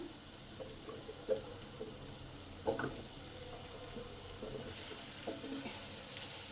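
Potatoes added to half-fried onions in a pan, a soft continuous sizzle with a few stirring knocks and scrapes, fairly quiet and close.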